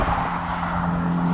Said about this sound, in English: Man, car's coming.